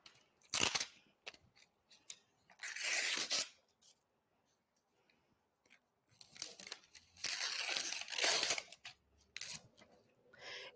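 Paper backing on sticky embroidery stabilizer is cut and torn in several separate bursts of sharp ripping and crinkling, close up, with quiet pauses between them and no talk.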